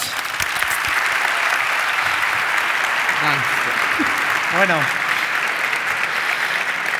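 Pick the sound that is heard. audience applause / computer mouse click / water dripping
audience applause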